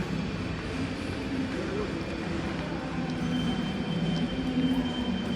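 A small kids' ride train rumbles past indoors, a steady close mechanical drone with crowd noise and chatter in the background.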